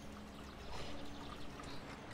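Steady rain falls in Farming Simulator 19, a continuous hissing, splashing wash that fills the whole short stretch at an even level with no talking.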